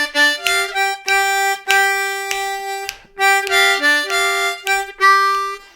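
A C harmonica plays a Rollin' and Tumblin' blues variation, a run of short, bright, reedy phrases with clear breaks between notes, heard close and alone.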